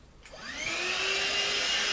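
A Morphy Richards SuperVac 2 in 1 cordless vacuum cleaner switches on, its motor whine rising in pitch over about a second and then holding a steady, close, loud hum.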